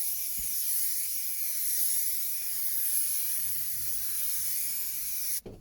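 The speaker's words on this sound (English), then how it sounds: "just spray this board up." An aerosol can sprays adhesive onto a board before carpeting a side panel, a continuous bright hiss held for several seconds that cuts off abruptly at the end.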